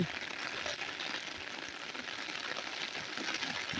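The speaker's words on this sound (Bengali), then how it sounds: "ভালো বৃষ্টি শুরু হয়েছে" Steady rain falls during monsoon at a wetland fishing spot, a constant even hiss of drops with no break, moderately loud and heard alone.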